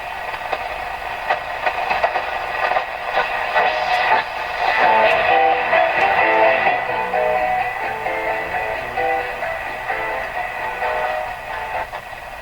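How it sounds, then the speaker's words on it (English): A Canadian Spartan Model 5542 radio gives off a steady atmospheric hiss with faint tonal whistles and static crackle woven through, a continuous moderately loud wash of noise with no voices. "You hear the atmospheric hiss."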